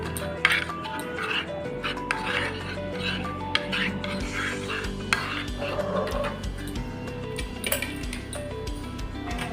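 Cornflour, salt and water being mixed into a thin batter in a bowl, with a spoon clinking and scraping continuously against the bowl, close, under soft background voices and a little household noise.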